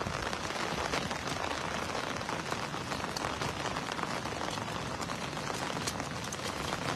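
Heavy rain pours down steadily at a waterfall during net fishing, a dense, even hiss of drops striking surfaces, loud and close with no break.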